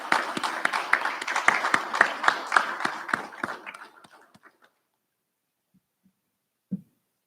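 An audience at a recognition ceremony claps in a burst of applause that is loud at first and thins to a few scattered claps before falling silent, followed by one brief thump.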